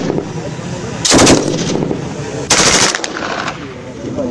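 Bursts of automatic rifle fire from KCR 556 and KMR 762 weapons at an outdoor firing demonstration in Koulikoro, two sharp loud volleys about a second apart over a noisy background, followed by a fainter shot.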